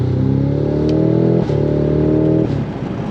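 A Cadillac CT5-V Blackwing engine revs hard and close, a loud, steady exhaust roar held for a few seconds with brief dips as the throttle lifts and climbs again.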